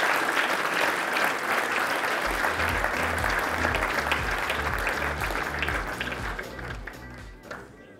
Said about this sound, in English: So please give them a round of applause as they come up to receive that particular award.